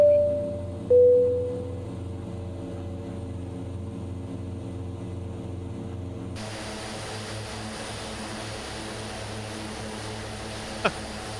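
Propeller engines of an Aerosoft Twin Otter in a flight simulator hold a steady drone at full RPM, the tone shifting as power comes up, then settling into a broad, constant roar.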